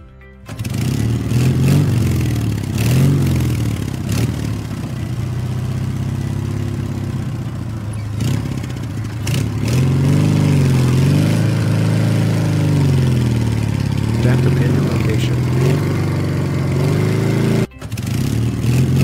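A motorcycle engine starts and runs with repeated revving and rising, falling throttle as it rides off, loud and close throughout, with a brief cut near the end.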